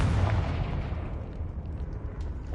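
A Confringo blast spell in Hogwarts Legacy lands as a heavy, booming burst of explosive rumble that fades out over a couple of seconds.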